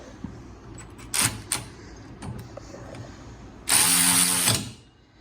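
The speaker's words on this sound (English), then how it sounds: "we'll try tightening it down with the older model, the brushed model" Snap-on brushed 3/8-inch cordless ratchet tightening a bolt, heard as a single loud motorized whirring burst of about one second, preceded by a few quiet clicks and knocks.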